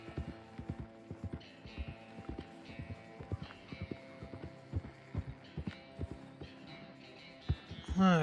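Rhythmic clip-clop of horse hooves trots steadily under a low humming soundtrack in the video game Red Dead Redemption II, ending with a brief rising whoosh.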